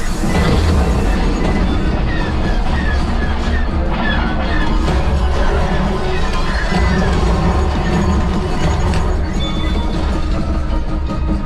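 A steady rumbling rush of a train passing on the Rise of the Resistance ride at Disneyland, dense and continuous throughout, with faint voices and clatter blended into the din.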